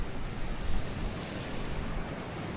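Gusty wind blowing across an ocean beach scattered with seaweed, a soft, steady broadband rush close to the microphone, with no voices.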